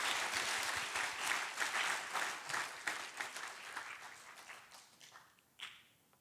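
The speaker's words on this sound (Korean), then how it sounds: "이 자리에 있게 하신 하나님께 감사와 영광의 박수 올려드리겠습니다." Church congregation at a retirement and graduation thanksgiving service applauding, a dense round of clapping that gradually thins out and fades over several seconds.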